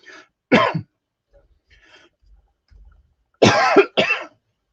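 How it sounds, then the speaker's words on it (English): A few sharp coughs, one small one at the start, then a strong burst, and a double cough near the end after a quiet pause. "starting the stream with a cough"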